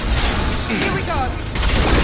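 Dense gunfire in a Mass Effect battle, loud continuous rattling bursts with blasts and sweeping electronic whines overlaid, steady and close throughout.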